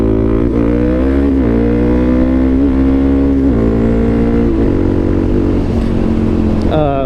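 A motorcycle that is running poorly idles and revs close by, with a loud, steady engine drone whose pitch wavers up and down.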